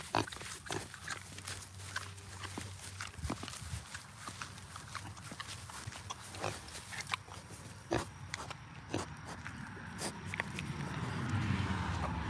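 A pig moves around close by with steady trotting hoof clatter and occasional low grunts, then a soft rustle near the end, with no talking over it.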